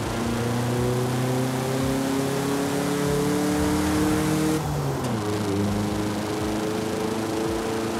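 Volkswagen SP2 from 1976 in Forza Horizon 5, its engine droning steadily and revving with rising tones, then a brief drop as it shifts gear before climbing again, loud and continuous without talk.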